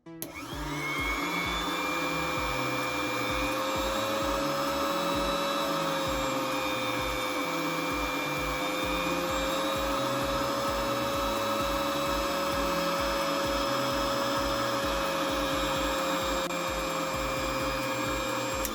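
A repaired electric milk cream separator hums steadily for the whole stretch, with a strong low pulsing rhythm and a whining tone above it, close and constant with no talk.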